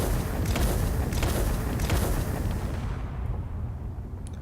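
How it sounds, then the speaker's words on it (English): A mid-sized ship weapon in a video game fires steadily at light armor, producing a dense, loud barrage of booming blasts that runs continuously, then fades into a low rumble near the end. "Here, I will first shoot on the light armor."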